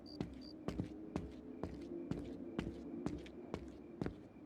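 Boot footsteps clopping in the visual novel game Tsukihime, a steady walking rhythm of about eight or nine crisp heel strikes over a constant low background hum, with no speech.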